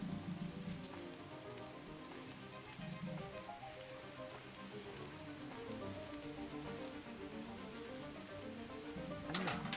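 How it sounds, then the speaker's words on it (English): Rain falling in a video game, a steady soft patter of raindrops with faint ticking, quiet and continuous with no clear voices. "Wait, isn't it raining?"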